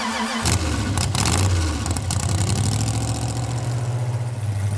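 A '63 Ford Cortina street-legal hot rod dragster engine fires up and runs loud and close, a deep steady rumble with rough revving surges early on, alone with no talk.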